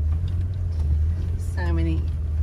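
A steady, low rumble from a car's interior on a rough outback road to Steep Point, Western Australia, continues without letup, with a brief voice breaking in near the end.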